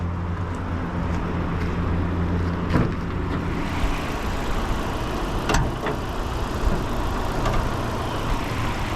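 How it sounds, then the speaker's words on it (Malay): A 2014 Proton Saga 1.3 FLX automatic sedan idles with a low, even engine hum, with a few sharp clicks and knocks close by. "So tengok engine dia macam mana."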